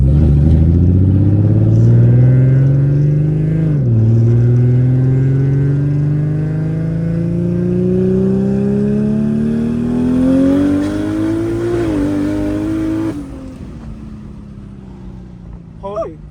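A car engine revs hard and climbs steadily through the gears, loud and close, with brief dips at each shift before it fades off at the end.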